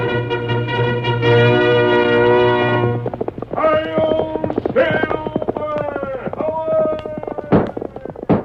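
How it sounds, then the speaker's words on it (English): Galloping horse hoofbeats from a Lone Ranger radio drama, a quick steady clip-clop running under a dramatic orchestral music score throughout. "Up fiery horse with the speed of light, a cloud of dust, and a hearty hi-yo Silver"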